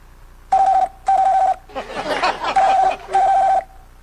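A second telephone at a phone booth rings with a lower electronic warble in repeated bursts, loud and close, while a voice chuckles and murmurs between them, apparently imitating the ring by mouth.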